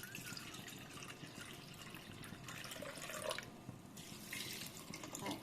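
Water is poured from a bowl into a pressure cooker while making vegetable pulao, a soft, steady trickle and splash that stays quiet throughout with no talking.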